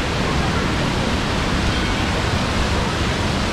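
The waterfall at Jatmai temple in Gariyaband, Chhattisgarh, pours as a loud, unbroken broadband rush of falling water, close and constant throughout.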